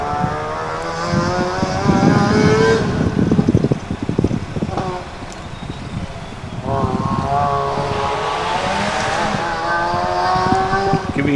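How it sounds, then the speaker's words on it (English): A rotary race engine screams at high revs at Ringwood Park, fading slightly then returning as it passes, with a ringing, echoing quality through the trees over the track. "How good is a rotor at high revs echoing through the trees?"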